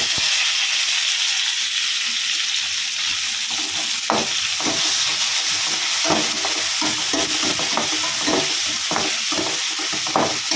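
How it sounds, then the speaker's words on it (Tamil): Tomatoes sauté in a hot pan for Kerala chicken curry, giving a loud, constant sizzle and hiss, with a spoon scraping and stirring through it in irregular strokes. "தக்காளி நல்லா வதங்கிட்டு இருக்கு"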